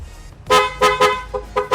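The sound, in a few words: PIAA horn on Yamaha NMAX V2 scooter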